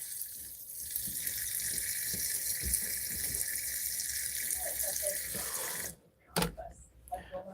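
A tap runs steadily as it fills a pet's water dish, loud and close for several seconds, then cuts off, followed by a few brief handling clunks.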